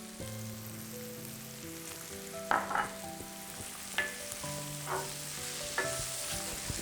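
Onions and spices frying in olive oil while being stirred, a soft steady sizzle with a few louder scraping stirs and clinks of a utensil, quiet and close, with a faint hum beneath.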